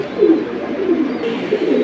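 Pigeons at a Bangladeshi pigeon seller coo low and throaty in a few overlapping soft pulses, close by and steady, with no talk over them.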